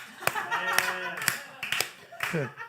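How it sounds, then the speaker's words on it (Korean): Several sharp hand claps spaced roughly half a second apart ring out close by during a church talk about clapping while praying, with a speaking voice woven between them. "박수 치면서 하면 돼요"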